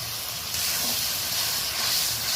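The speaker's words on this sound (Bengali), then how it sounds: "এই পর্যায়ে আমি অল্প গরম জল দিয়ে দিলাম" Hot water poured into a pan of frying onions and tomatoes for a dried-fish curry sets off a loud, steady broadband hiss of steam, continuous and close throughout.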